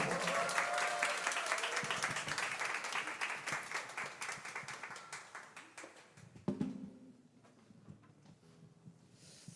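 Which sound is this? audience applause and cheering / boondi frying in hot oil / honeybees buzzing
audience applause and cheering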